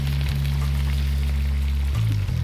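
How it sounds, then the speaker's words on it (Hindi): Hot boiling water poured into frying kebab masala in a karahi sets off a loud, steady sizzle that persists throughout, with a low hum underneath. "गर्म उबलता पानी जो है वो ऐड करना है"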